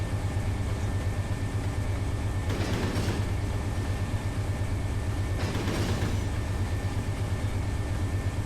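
Train rolling along the Fresno to Bakersfield route in the Run 8 Train Simulator game, a steady loud low engine drone with rhythmic rumble and two brief swells of wheel and car noise, no talk.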